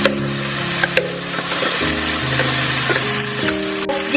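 Beef for an Anglo-Indian beef fry, tossed with a masala blend, frying in oil and being stirred: a steady broadband sizzle with soft scraping, running continuously beneath a prominent bed of tonal music.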